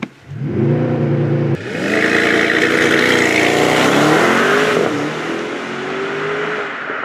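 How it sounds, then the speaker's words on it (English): A Mercedes GT63 AMG launching under launch control, engine note rising in a loud, close surge after a brief idle, then a sharp jump in pitch as it accelerates hard and holds a strained high rev before easing off slightly. "Let's put this car into launch control mode"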